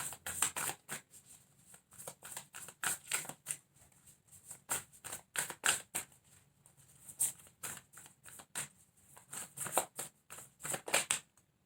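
Tarot cards being shuffled close up, a run of quick crisp riffles and slaps in irregular bursts with short pauses, no voices.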